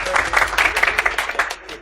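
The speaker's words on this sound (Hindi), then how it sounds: "मूसा भाई के लिए तालियां।" Classroom applause for a student's prize: a short burst of quick, uneven hand claps from a small group, fairly close, with voices mixed in.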